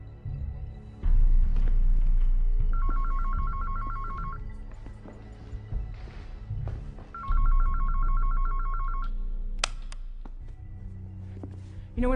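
A telephone rings in two separate bursts of rapid electronic trilling, each lasting about two seconds, over a low rumbling background with faint movement and clicks.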